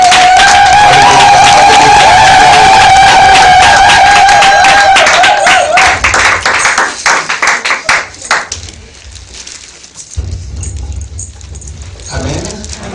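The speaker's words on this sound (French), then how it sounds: "acclamons le Seigneur plus fort." A church congregation cheers and claps loudly for the Lord, with dense rhythmic applause, shouting and a sustained whistle-like tone, thinning out toward the end as voices continue.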